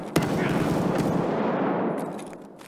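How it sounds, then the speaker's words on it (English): Sustained video game gunfire echoing down a hallway in a dorm area, a loud continuous rattle of rapid shots that swells abruptly and tapers off toward the end. "I'm getting shot at the end of the hallway"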